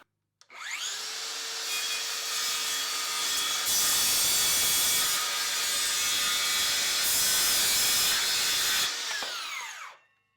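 Circular saw blade spinning up and cutting through wood while passing through two nails, a loud sustained high-pitched whine with harsher grinding surges partway through, winding down at the end; no talking.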